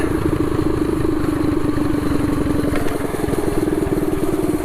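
A stock mini bike engine screaming at high RPM: a steady, buzzing, rapid-firing drone with a strong constant pitch, close and loud, holding on without letup and no talk over it.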